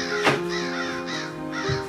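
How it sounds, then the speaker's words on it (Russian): Crows caw loudly several times, harsh calls spaced out over a steady background hum. "Милорд, вы слышали? Вороны. Прилетели вороны."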